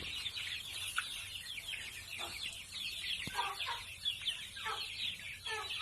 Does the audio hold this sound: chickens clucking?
yes